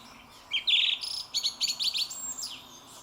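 Songbirds in spring countryside chirp and tweet in quick, bright bursts close by, the calls overlapping in a lively run of short phrases with no voices.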